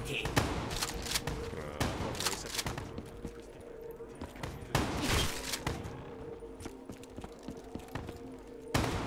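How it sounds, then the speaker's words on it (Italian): Bursts of gunfire in Call of Duty Black Ops 3 Zombies, Shadows of Evil: rapid shots and thuds scattered through a busy mix of effects and background chatter, fairly quiet overall. "ma ti sparo in testa"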